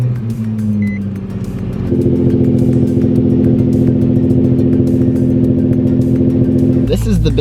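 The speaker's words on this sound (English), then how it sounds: "Should we give it a cold start?" Nissan 350Z engine cold-starting, its idle rising to a steady, loud hum for several seconds before a brief clatter at the end, with voices in the background.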